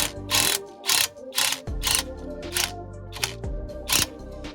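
Ratchet clicking in quick bursts while backing out the rear shock absorber bolt on a Renault Clio 3, about eight sharp close ratcheting runs separated by brief pauses, with no speech.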